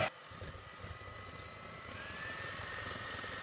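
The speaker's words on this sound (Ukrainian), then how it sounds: "До білків додаємо відразу дрібку солі і починаємо їх на невеликих обертах взбивати." An electric mixer whisks egg whites with a pinch of salt at low speed, giving a steady, even whirring hum after a short knock at the start.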